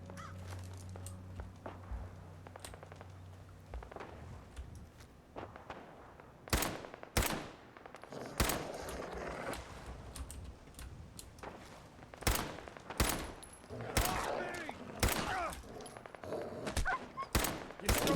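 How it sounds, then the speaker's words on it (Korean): Scattered sharp gunshot bursts ring out in Fallout 4, some in quick clusters, against a low hum and background noise, with no talking. "총소리가 들린다."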